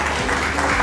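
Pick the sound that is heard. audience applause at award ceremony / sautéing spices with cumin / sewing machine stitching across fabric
audience applause at award ceremony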